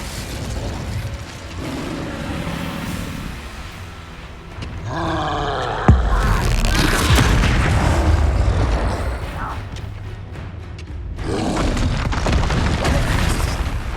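The Petrificus Totalis spell is cast in Hogwarts Legacy amid a loud, churning, mechanical soundscape, with a sharp impact partway through followed by a rumbling roar and creaking, ratchet-like textures.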